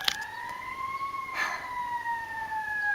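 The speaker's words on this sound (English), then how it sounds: "now it looks like a fire truck is rounding the corner" Fire truck siren rounding a corner outside, a steady wailing tone with slow pitch rise and fall, fairly distant under background noise, with a brief clatter near the start.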